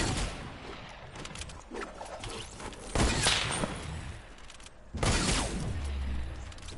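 Gunfire in Fortnite, sharp loud bursts about two seconds apart, each followed by a lingering rumbling tail and mechanical rattles, with no talk over them.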